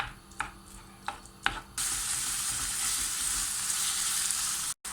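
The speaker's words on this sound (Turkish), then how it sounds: "Kıymayı güzelce kavuruyorum." About 300 grams of minced meat sizzles and crackles steadily in a hot pan, preceded by a few sharp clinks and taps of utensils, close and fairly loud.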